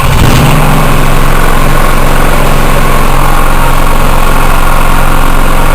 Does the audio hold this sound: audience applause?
no